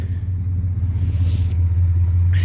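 A 1966 Chrysler Windsor engine idles smoothly and steadily with a deep, even rumble and mild cam, up close and alone, with brief hissy broadband flares over the top.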